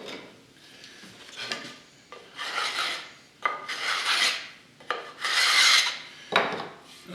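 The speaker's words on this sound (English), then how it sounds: "it's a good idea to chamfer the corner on this a little bit" Rasping file strokes chamfering the corner of a wooden box joint jig part, about five separate scraping passes in an uneven rhythm, close and clear with no talk.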